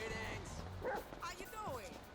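Dog barking and yipping in the video game GTA 5 as the animal is sent chasing a fleeing character, short excited barks mixed under steady game commentary.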